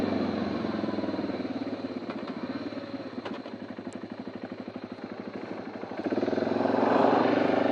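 A motorcycle engine idles and runs at a steady, even pulse close by at a gorge stop in remote northern Australia, with a rising revving swell near the end.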